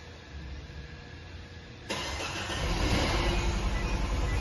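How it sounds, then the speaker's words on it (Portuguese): A Peugeot THP engine, just fitted with a new high-pressure fuel pump, cranks and catches at about two seconds, then runs on at a steady, loud, close idle with no talking. "vamos dar partida"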